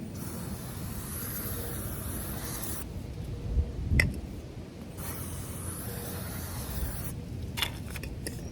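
Cleaner sprays onto the chain of a 2016 KTM 390 Duke in bursts of hissing spray, two longer stretches with quieter gaps, plus a couple of sharp knocks, close and fairly faint.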